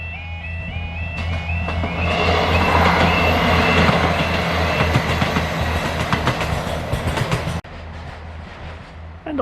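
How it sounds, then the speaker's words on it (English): An Inverness to Kyle train rumbles past close by, climbing toward Raven Rock summit in the Scottish Highlands, its wheels clacking rhythmically over the rails, loud throughout before the noise cuts off abruptly. "This is the train from Inverness to Kyle, which will be climbing up the hill to Raven Rock summit"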